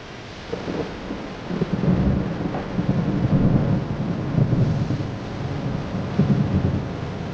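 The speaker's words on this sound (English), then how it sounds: "lightning crashed, and the light rain became a torrential downpour" Thunder rumbles low and heavy through a torrential downpour, the rain hissing steadily while rolling crashes swell and fade across several seconds, with no voices present.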